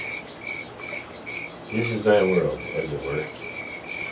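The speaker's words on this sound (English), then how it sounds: "the crickets and all that sound is coming out of a speaker" Crickets chirp from a speaker in a steady, pulsing rhythm throughout, with a person speaking briefly over the continuous insect sound.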